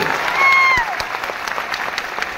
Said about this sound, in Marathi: एकदा जोरदार टाळ्या होऊ द्या विचार मंचासाठी.